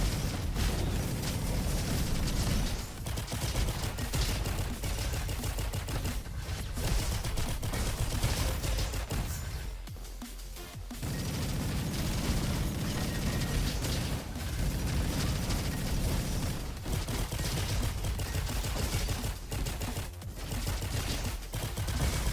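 Sustained, dense automatic gunfire in a video game, loud continuous rattling bursts with only a brief dip partway through, no reloading pauses and no talk.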